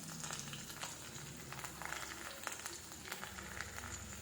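Small shallots frying in oil for a homemade hair oil, giving a steady, fairly quiet crackle and hiss with occasional brief pops and no talking.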